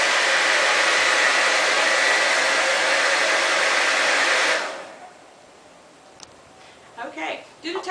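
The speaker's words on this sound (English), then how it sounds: "you're going to use your hair dryer on a high setting" A hair dryer runs on its high setting as a loud, steady broadband roar for about four and a half seconds, then cuts off, leaving quiet room tone and brief faint voices at the end.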